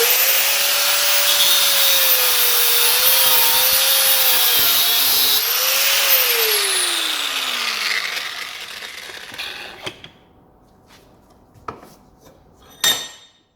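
A power cutting tool whines steadily through a carbon-clogged turbo oil feed pipe, its pitch dipping and rising as it bites, then winds down, followed by a few metallic clinks and knocks of the pipe being handled.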